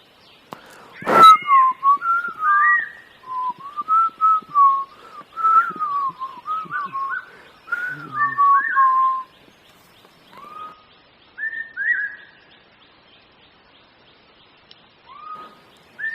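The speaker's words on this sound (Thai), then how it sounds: "ท่านั้นก็ได้เดินต่อไปข้างหน้าแล้วผิวปาก" A person whistles a wandering, bird-like tune while walking outdoors, clear and close, in short phrases with pauses, preceded by a sharp click near the start and fading to sparse notes toward the end.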